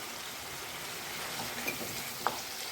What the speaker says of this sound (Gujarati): તેને પણ આપણે મિક્સ કરીને થોડીક વાર સાતળી લઈશું